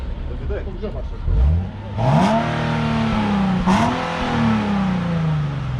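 A nearby Nissan 370Z sports car engine revs up repeatedly in rising, roaring pulses, with people talking over it.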